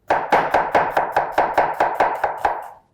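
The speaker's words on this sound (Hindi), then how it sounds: "जब तक वो गर्म हो रहा है तब तक हम प्याज स्लाइस कर लेते हैं" An onion sliced with a knife on a cutting board gives about eleven quick, evenly spaced crisp chops, close and loud, with no talking.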